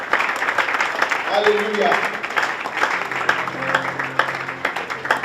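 A church congregation applauding in a steady, dense wash of clapping that fills the room, with voices calling out and speaking over it throughout.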